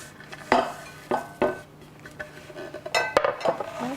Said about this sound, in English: So now what I'm going to do is just transfer this right into my mixing bowl